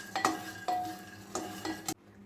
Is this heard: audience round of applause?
no